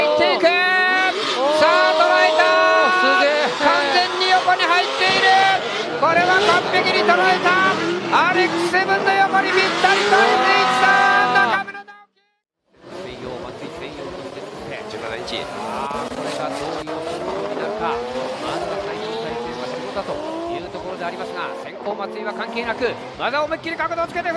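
Two drift cars battling at a D1GP event, with engines revving hard and screaming through shifting gear pitches, a brief cut to silence midway, then more engine howl under an excited commentator's voice and crowd noise.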